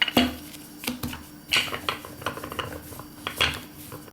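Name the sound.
rolling out tortilla dough into thin flatbreads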